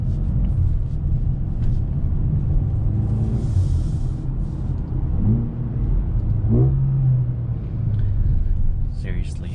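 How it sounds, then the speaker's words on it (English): Engine and exhaust of a 2021 Mercedes-Benz GLA 35 SUV in Sport Plus mode with an 8-speed automatic, a steady low rumble on the highway with a few rising revs, heard from inside the cabin. "Seriously, this thing just sounds amazing. I could drive this GLA 35 in Sport Plus mode all day because of that exhaust."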